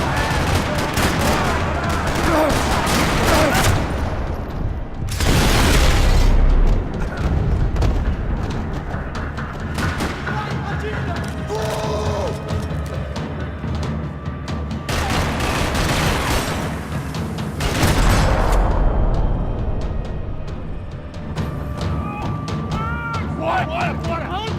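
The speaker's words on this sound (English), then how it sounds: "Another parking lot rattling with gunfire." Bursts of rapid Max Payne gunfire and booms in a parking lot come in waves, loud and dense, with other game sounds between volleys.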